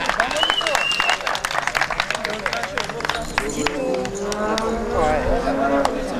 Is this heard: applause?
yes